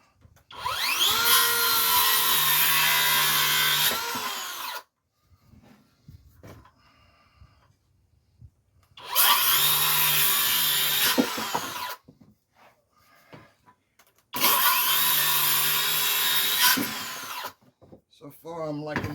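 A power saw fitted with a Diablo blade cutting 2x4 lumber, three loud close bursts of whining cutting a few seconds each, separated by quiet gaps with faint knocks and a voice talking.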